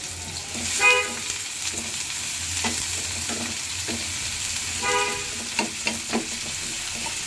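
Chopped garlic frying for a vegetable bhaji made with beans and potatoes sizzles steadily in a pan, with a few sharp stirring clinks and scrapes standing out against the constant close crackle.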